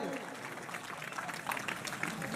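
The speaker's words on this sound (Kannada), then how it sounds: "3 ಬಾರಿ ಜೋರಾದ ಚಪ್ಪಾಳೆ" Faint applause from the audience at a religious purana gathering after a prize announcement: a soft, steady wash of clapping with voices murmuring underneath.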